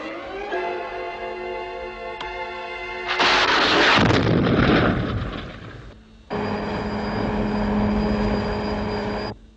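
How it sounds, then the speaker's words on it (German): A loud artillery blast booms and rolls off over a steady droning engine hum, which continues after a brief dip. "Sie müssten den Schuss doch bemerkt haben"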